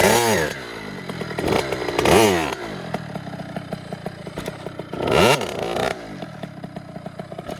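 A motorcycle engine idling with a ticking rattle, revved sharply twice in short bursts that rise and fall back to idle.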